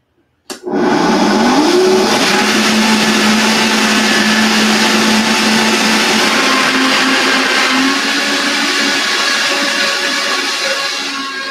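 A countertop blender whirs a coconut mixture, switching on with a sharp rise and holding a loud, steady high-speed motor roar that continues unbroken to the end.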